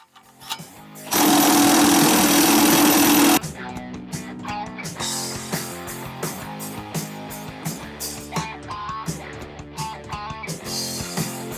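Cordless 1/2-inch impact wrench during torque testing, a Snap-on CT8850 or Milwaukee M18 FUEL 2763, gives one loud sustained burst of roughly two seconds, followed by quieter mechanical clatter and clicks from the test rig.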